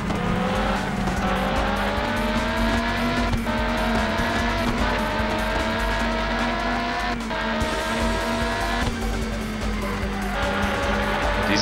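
A prototype race car from the PS1 game Le Mans 24 Hours screams along at a constant loud whine, its pitch rising and falling through gear changes, with tire squeal as it works through a corner.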